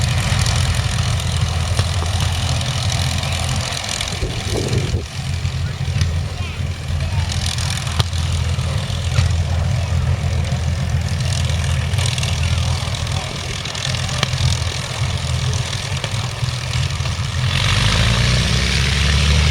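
Avro Lancaster NX611 bomber taxiing at East Kirkby, its piston propeller engines running in a steady, loud low drone throughout, with faint voices under the engine noise.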